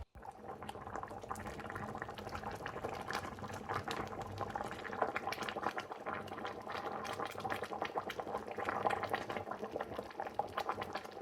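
Soaked rice in a pot of water at a rolling boil bubbles steadily and closely, a dense, even churning that runs without a break.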